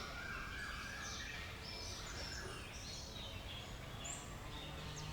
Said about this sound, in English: you can just hear the birds